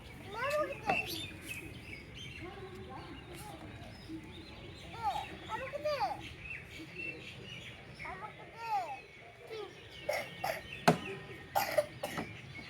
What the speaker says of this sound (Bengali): কত কাশি ছেলেটার।